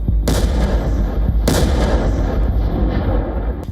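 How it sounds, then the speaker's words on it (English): A Soviet-era FAB-3000 three-ton bomb detonating, with two heavy booming blasts a bit over a second apart, each a sharp crack followed by a long rolling rumble that fills the whole clip at high loudness. "Just a devastating blast that tears through trenches, bunkers and buildings, leaving behind a crater where a defensive position once stood."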